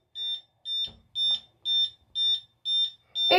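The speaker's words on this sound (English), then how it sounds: "It beeps for a while." Seven short, high electronic beeps repeat at an even pace from a smart home security alarm panel close by after the home lock button is pressed, each evenly spaced, with a brief rustle at the end.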